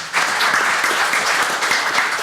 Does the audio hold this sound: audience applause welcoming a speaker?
yes